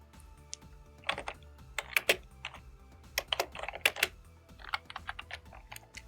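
Quick, irregular clicks of typing on a computer keyboard, bursts of keystrokes with short pauses between them, crisp and close with no talking.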